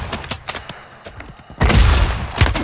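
Gunfire in the battle royale game Warzone 3.0: scattered individual shots early, then a heavy, loud volley of rapid automatic fire with booming low-end impacts, close and punchy.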